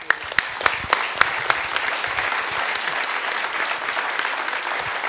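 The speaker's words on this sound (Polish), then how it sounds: "Duże brawa raz jeszcze" An audience at an award ceremony for a film composer's lifetime achievement breaks into loud, sustained applause, many hands clapping densely with sharp claps standing out at first, then settling into a steady roar with no voices.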